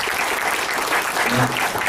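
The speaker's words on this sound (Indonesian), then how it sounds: "Berikan tepuk tangan buat Tuhan Yesus" A congregation at a church Christmas celebration claps together in a steady, dense wash of applause that fills the whole moment.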